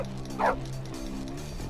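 Dog barking inside the video game Bully, a single short bark standing out over a steady low game background hum.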